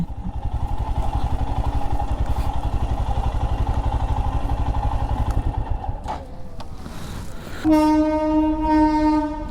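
An Indian Railways train rumbles past a closed level crossing loudly with rhythmic wheel clatter, then a long, harmonic horn blast sounds near the end.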